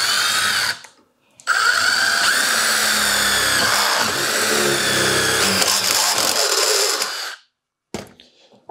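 Milwaukee Shockwave impact-duty step drill bit cutting through steel sheet, a loud steady whirring drill run of about six seconds, briefly stopped and restarted, with short bursts before and after.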